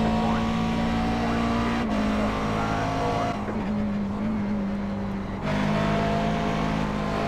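A race car engine in iRacing at Road Atlanta, video game, holds a loud steady high-revving drone close up, with shifts in pitch as the car brakes and accelerates through the corners.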